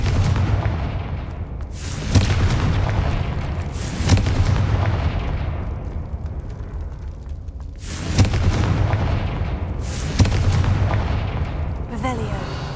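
Confringo spell explosions go off in the video game Hogwarts Legacy as four or five loud booming blasts, each decaying slowly into a rumbling tail, spaced a couple of seconds apart.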